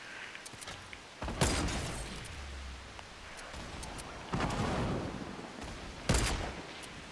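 A gun spammer in a video game lets off rapid gunfire in three loud, sharp bursts spaced a couple of seconds apart, with a low rumble and quiet gaps between them and no voices.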